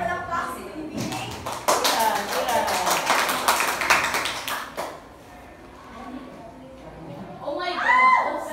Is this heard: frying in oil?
no